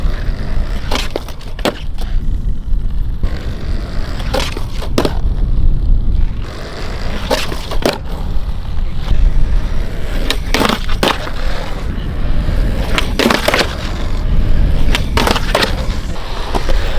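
Skateboard wheels roll loudly over rough ground while the tail pops and the board clacks and scrapes several times in a trick sliding backwards, with sharp knocks scattered through the steady rumble.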